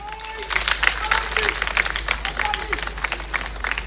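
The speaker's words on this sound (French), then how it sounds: "qu'on applaudisse s'il vous plaît, mesdames et messieurs, pour lui dire encore merci" An audience applauds Babacar Ndao Faye, a lively patter of many hands with distinct individual claps, while a voice talks over it.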